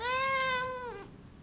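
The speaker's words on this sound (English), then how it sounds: "This is my cat." House cat giving a single clear, drawn-out meow that falls in pitch at the end, close and loud in a quiet room.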